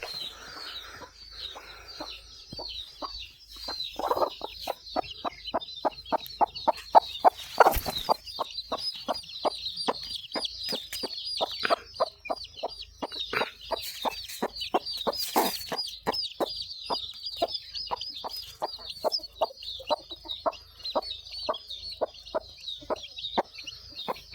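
Close, insistent clucking from a native village hen tending fresh chicks, dozens of quick clucks in bursts, with the chicks' thin high cheeping running steadily underneath.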